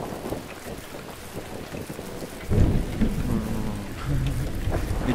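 Thunderstorm with rain in the sailing game Make Sail: steady rainfall hisses throughout, then a deep rumble of thunder rolls in midway and lingers loudly to the end.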